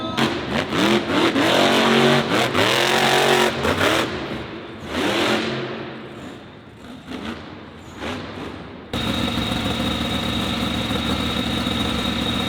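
A Monster Jam truck engine at a high-elevation event, loud repeated revs rising and falling for several seconds, then a steady roaring run at the end.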